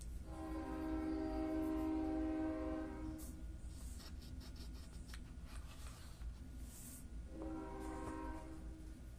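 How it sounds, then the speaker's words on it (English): A train horn blares loudly, then rail cars rumble and clatter past, and the horn sounds again as the train moves on. "There goes the train."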